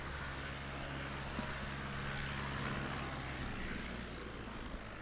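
A Socata light propeller aircraft, registered PH-GTT, runs its engine at Lelystad Airport, a continuous low droning hum heard at moderate distance and fairly steady throughout, with no speech.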